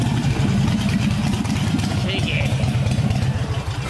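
Motorcycle engines idle and rumble with a steady low throb as riders arrive, loud and close, with faint voices mixed in.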